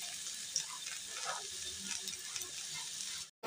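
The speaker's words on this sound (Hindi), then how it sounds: "इस तरह से पैन को हिला लेंगे, कोफ्ते हमारे भून जाएंगे।" Beef and lentil koftas fry in a pan, giving a steady, close, crackling sizzle throughout that cuts out abruptly for a moment near the end.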